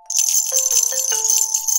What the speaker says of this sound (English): I'll fasten all the rattles' lids after you two have put four grains of rice and pepper in each of them.